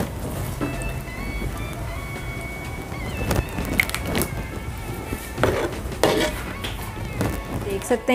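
A spoon clinks and scrapes against a bowl and pot while gajrela kheer is ladled in small portions, close and fairly loud, with no voices.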